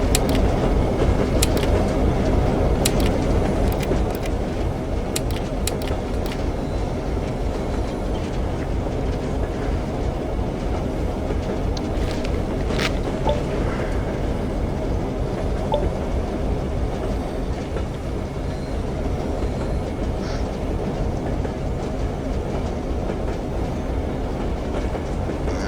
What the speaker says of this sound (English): This train is very loud.